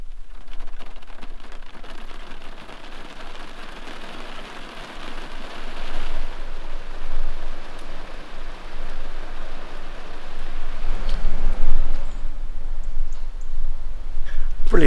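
Rain falls steadily in old Woking, a continuous hiss of drops on surfaces that grows a little heavier toward the end, with no talk.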